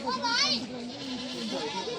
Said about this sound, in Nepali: बाख्रालाई चलाइरहेको।